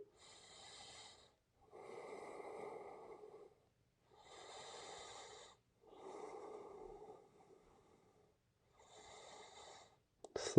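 Slow, deep breaths during a yoga flow, five long breathing phases in an even rhythm with quiet pauses between them, close and soft, with no talking.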